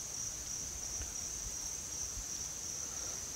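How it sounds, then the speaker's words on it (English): Crickets chirp faintly in the background near a pond in Villanow, Georgia, a thin, steady high trill over quiet outdoor ambience. "I actually hear somewhat what sounds like some crickets in the background"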